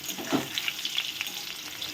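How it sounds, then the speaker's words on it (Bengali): Boiled potatoes fry in hot oil with a brisk, close crackling sizzle and light popping over a couple of seconds. "আলুগুলো একটু ভেজে নিতে হবে।"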